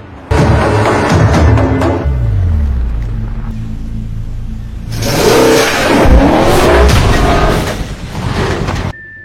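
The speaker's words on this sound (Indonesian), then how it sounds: "Tom pun tancap gas dan berusaha mengecoh mobil yang mengikuti mereka." A car engine revs hard as the driver speeds off to shake a following car, with a loud, close roar that rises, dips, then surges again for several seconds.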